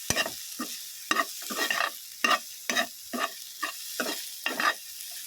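Chopped tomatoes stirred and sautéed in a hot pan, a spatula scraping in repeated bursts over a soft sizzle, close up with no talking.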